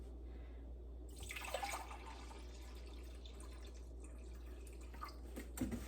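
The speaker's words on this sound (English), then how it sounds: "I'm going to add in 2 cups of apple cider vinegar" Two cups of apple cider vinegar are poured for a batch of cowboy candy for canning, a faint, steady trickling splash that starts about a second in and runs to the end.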